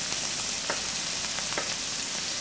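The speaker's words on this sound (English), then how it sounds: "let's give this bacon a chance to cook up here" Bacon frying in a hot skillet, a steady dense sizzle and crackle throughout with a few brief louder pops, close and continuous with no voices.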